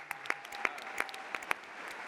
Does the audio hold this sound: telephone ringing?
no